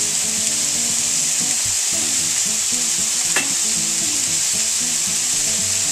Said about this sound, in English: next thing you want to do is add in your vegetables, and that's the corn and the sweet peas.